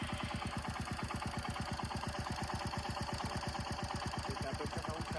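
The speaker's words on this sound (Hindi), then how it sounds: "इंजन का जो टैपेट का नॉइज आता है ना" Royal Enfield 350 motorcycle engine idling with a steady rapid mechanical ticking of tappets over a continuous low thump, close and even throughout.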